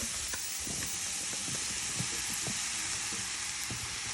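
Mushrooms frying in a pot with onions for a one-pot chicken and mushroom pasta, giving a steady, close sizzle with scattered stirring clicks and pops throughout, with no talking.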